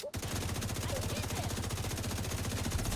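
Rapid automatic gunfire in the shooter game The Division 2, a dense, steady stream of shots firing without pause for several seconds, loud and continuous with no talk.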